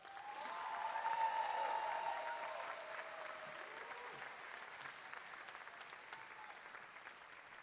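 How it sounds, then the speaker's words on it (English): At a high school graduation ceremony, an audience claps at moderate distance, swelling quickly and then easing to a lighter, even patter over several seconds, with faint crowd murmur. "Let's give Dr. Clark another round of applause."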